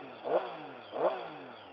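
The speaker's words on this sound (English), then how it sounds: "The sound you're hearing from the stock bike is all induction." A stock Triumph Street Triple's 600cc engine revs twice in quick succession, its induction sound rising and falling in pitch each time, fairly close and steady.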